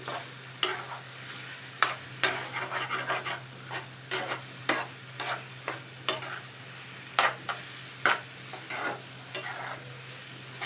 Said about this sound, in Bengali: ভালো করে মিশাই দিই